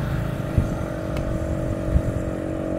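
Steady traffic rumble with Honda and Yamaha motorcycles and scooters passing along a road, engines droning continuously with a couple of brief louder bumps, no voices.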